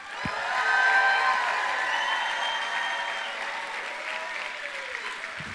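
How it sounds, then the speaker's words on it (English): A studio audience at the taping of a talk show applauds and cheers, a dense, sustained wash of clapping that swells early and stays loud, then tapers slightly near the end. "Give yourselves a round of applause, everybody."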